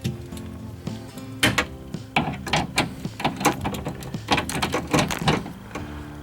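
Metallic clicks and ratcheting taps while 10 mm bolts are fitted and tightened on a Ford door glass, a rapid irregular run of close, sharp ticks over a quiet mechanical hum, no talking.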